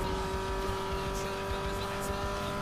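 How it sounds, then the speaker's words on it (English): Race car engine roaring steadily in Need for Speed Underground 2 during a nitrous boost, a loud sustained drone with a high whine, heard alone without talk. "Use some more nitrous."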